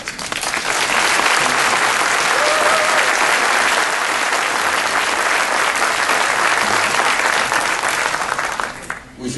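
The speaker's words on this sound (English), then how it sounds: "Let's give him a big applause for that" A lecture audience at a talk on the future of microfinance breaks into loud, sustained applause, a thick crowd clapping at full strength for roughly nine seconds before it cuts off abruptly.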